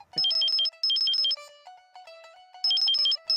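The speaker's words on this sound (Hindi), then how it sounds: "ले आ गया बापू का फोन" A mobile phone rings with a bright electronic ringtone: a quick repeating high melodic phrase alternating with lower sustained notes, loud and close, with no talk over it.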